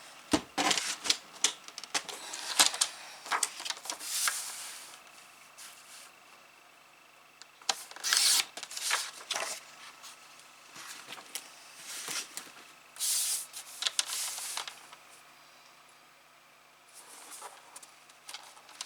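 A very sharp blade slices through thin paper in a crafting project, giving a series of quiet, crisp scraping strokes in short bursts with pauses between them, close and alone without talk.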